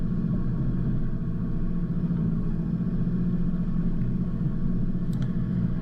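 A 4WD crawls slowly up a rough forest track, its engine a low, steady rumble close by, with no voices and a faint high tick near the end.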